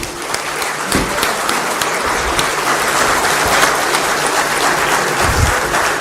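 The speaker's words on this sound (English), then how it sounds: "can we have a round of applause, thundering applause, please, from everybody?" Loud, sustained audience applause fills the hall at the close of a large business summit, a dense, steady wash of clapping from many hands with no talk over it.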